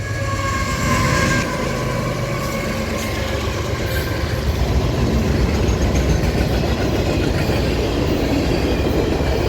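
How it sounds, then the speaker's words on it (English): A train rumbles past close by with continuous loud rolling and clattering wheels, and a sustained horn tone sounds early on over the passing cars. "a train's gonna honk at me in a second"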